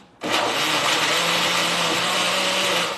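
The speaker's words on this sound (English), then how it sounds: "when you open this blender after blending all these things" A countertop blender starts abruptly and runs loud and steady, grinding a thick, tightly packed curry paste with added liquid, its motor whine and churning sustained for a few seconds before easing off, with no talking.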